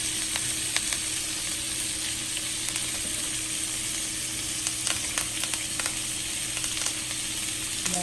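A lamb chop sears in a hot pan with a loud, steady sizzle and frying crackle lasting several seconds, with small pops scattered throughout and no talking.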